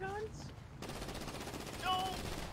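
Video game gunfire in GTA 5 sounds as a short, faint rattle of rapid automatic shots, with brief voice sounds at the start and near the end.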